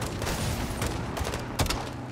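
Launcher rockets strike enemies in Call of Duty: Modern Warfare 2, a loud dense barrage of gunfire and impacts with a sharper burst near the end.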